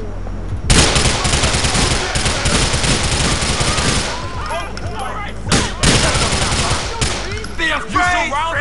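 Rapid gunfire from the video game GTA 4 crackles in dense, loud volleys, breaking off briefly twice before resuming, with a voice faintly audible among the shots.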